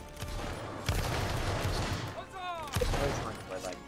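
Rifle volley fire in a Roblox Waterloo battle, sharp cracking musket shots layered over a continuous battle din, with players talking over it.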